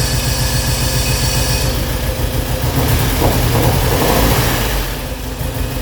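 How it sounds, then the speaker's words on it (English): An old Porsche engine, running on what seem to be only two cylinders, idles loudly and steadily, with a busy ticking, clattering valve train running throughout. "Valve train's a little noisy, as you would expect."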